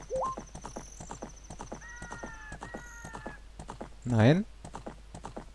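Rhythmic horse hoof clip-clops from riding in the video game Zelda Ocarina of Time, steady beats running throughout alongside game chimes and a brief horse neigh, with someone talking briefly.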